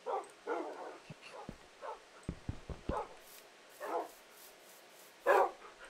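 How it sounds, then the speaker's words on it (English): Several dogs bark and yip in scattered bursts, some sharp and loud, with a few thumping knocks between barks. "All the dogs. Oh my god, there's so many of them."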